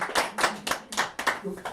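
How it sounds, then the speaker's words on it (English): A small audience clapping, a handful of sharp, slightly uneven hand claps in quick succession, close and moderately loud, with a voice briefly heard near the end. "Another round of applause for you."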